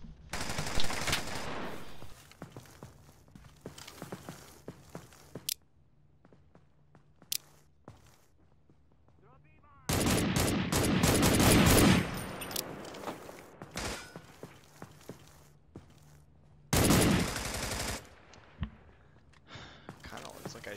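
Gunfire in a competitive video game scrim: bursts of rapid shots and footsteps come in loud clusters, with heavier volleys partway through and near the end, while players talk over the action.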